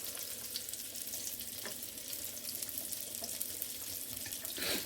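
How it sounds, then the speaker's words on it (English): Water is scooped from a pot of cooking pasta with an ice cream scooper: steady close splashing and trickling, with a few brighter sloshes near the end and no voices. "Scoop a little bit of water out of here, if I can get it without a noodle."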